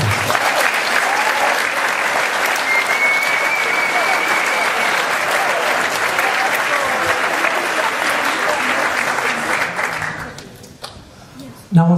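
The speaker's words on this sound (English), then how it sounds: "can we give Tom Checkley a round of applause, please?" An audience at a school rugby awards evening gives sustained, loud applause that holds steady for about ten seconds, then fades out quickly.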